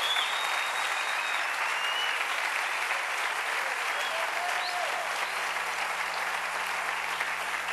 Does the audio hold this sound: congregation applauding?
yes